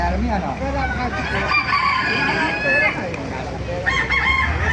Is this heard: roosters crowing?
yes